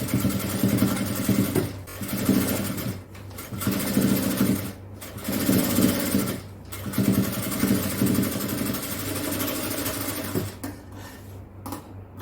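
An electric sewing machine stitches a line on fabric for puff shorts, running in steady bursts of a few seconds each with brief pauses between them, a close continuous mechanical whir.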